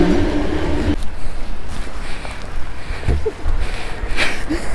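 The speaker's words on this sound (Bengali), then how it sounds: "এই যে দেখো ট্রেন চলে গেল।" A train pulls out of a station in the rain, its loud rolling rumble and rail clatter close by, thinning as it leaves while rain patters around.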